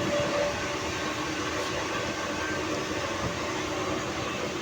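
Train at Masjid Bandar station in Mumbai on a rainy day, a dense, continuous rumble and roar of rail noise with no break.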